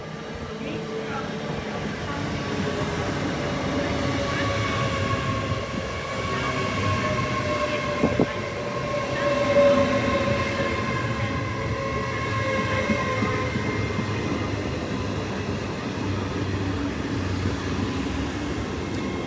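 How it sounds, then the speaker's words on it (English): A Class 37 locomotive hauls a stock move past at steady speed, its diesel drone and rolling wheels continuous and fairly close for about twenty seconds, with a brief sharp clank midway and no talk. "Class 37 stock move running from somewhere in the north, either Gascoigne Wood or Worksop, to Great Yarmouth"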